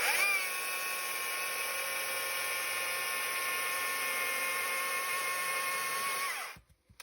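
A chainsaw making a back cut while felling a small tree, a steady, high-pitched motor whine running continuously at full power for several seconds, then cutting off abruptly near the end.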